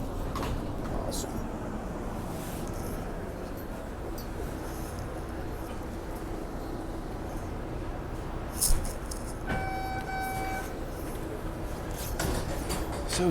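A normal passenger train runs on rails past a platform with a yellow line, a steady rumble and rattle throughout with a brief clank and a tonal whine near the end, a voice speaking over it.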